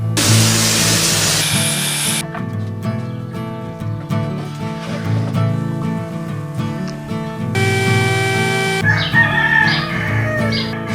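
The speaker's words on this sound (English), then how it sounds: "shut the heck up, you stinking roosters" Roosters crow repeatedly, loud and close, with several long harmonic calls overlapping amid a noisy background and a burst of hiss.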